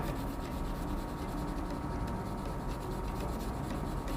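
A 2B pencil shades on paper with continuous soft scratchy rubbing, close and steady, with no pauses or voices.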